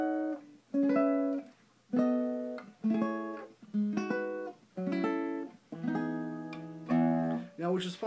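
Guitar plays a descending major seventh scale, a run of separate plucked notes and short chords spaced about a second apart, clear and close with fading sustain.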